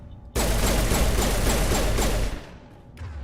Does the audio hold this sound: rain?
no